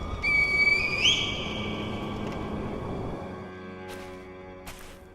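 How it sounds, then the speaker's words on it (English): A reed whistle signal in the video game Sekiro, a loud rising whistled tone that sweeps upward and holds briefly over a sustained background drone, followed by soft atmospheric sound. "Once you find it, signal me with a reed whistle."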